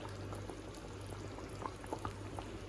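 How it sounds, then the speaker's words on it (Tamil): A pot of paruppu urundai kuzhambu, a Tamil lentil ball curry, bubbles at a steady simmer, with soft irregular pops and blips over a low continuous hum. "நமக்கு குழம்பு வந்து நல்லா கொதிச்சிருச்சுங்க"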